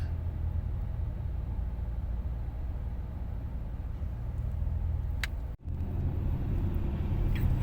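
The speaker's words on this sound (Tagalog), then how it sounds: "Pag ganitong oras, may traffic na pala." Steady road traffic rumble from passing cars, a broad continuous roar that holds level for several seconds, drops out sharply for a moment, then resumes just as loud.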